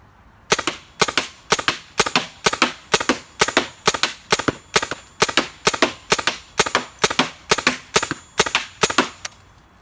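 A PAVA launcher fires round after round at a target in a quick, even rhythm, more than a dozen sharp cracks spaced about half a second apart, loud and close.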